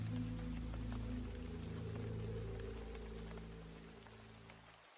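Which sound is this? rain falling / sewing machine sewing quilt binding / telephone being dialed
rain falling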